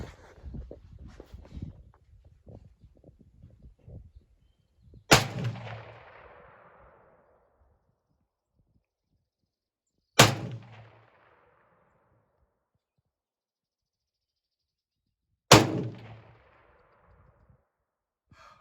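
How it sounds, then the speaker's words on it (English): AK-47 rifle fired with iron sights at an outdoor range target 100 yards away: three loud, sharp gunshots spaced about five seconds apart, each ringing out and decaying, preceded by rustling handling noises. "10 rounds per target. AK47 at 100 yards."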